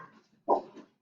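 Dogs barking in a home, probably when someone is at the door: a short close bark followed by a softer second yelp, with quiet noise before.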